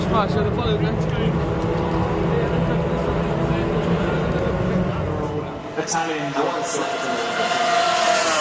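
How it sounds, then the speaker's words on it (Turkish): Vintage Formula 1 race cars with V12 engines, 1970s and 1985 models, run at Monza. A loud, continuous engine roar with rising and falling pitch dominates, with a voice talking under the racket. "Formula 1 haftasında eski Formula 1 araçları müthiş bir V12 sesi"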